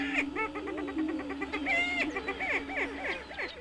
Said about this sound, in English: witness the booming of the Attwater's prairie chicken.